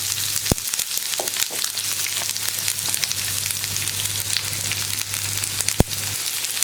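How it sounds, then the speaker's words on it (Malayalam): Continuous sizzling and crackling of mustard seeds, dried red chillies and onion frying in oil, with a low hum underneath and a couple of sharp pops. "കടുക് പൊട്ടി വരുമ്പോൾ ഒരു 3 വറ്റൽമുളക്, അതുപോലെ തന്നെ നമ്മൾ കട്ട് ചെയ്ത് വെച്ചിരിക്കുന്ന സവോള"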